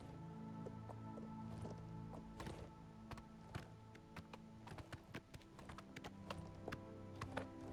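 Horse hooves clip-clopping in the video game The Elder Scrolls IV: Oblivion Remaster, with quiet, irregular taps that grow more frequent over a low steady drone and no voices.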